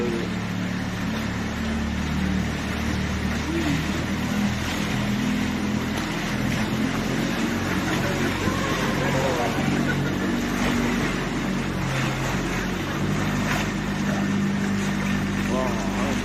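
Boat engine running as the boat heads out toward the Mediterranean Sea off Gozo, Malta, a steady low droning hum heard throughout with water and wind noise and people talking over it.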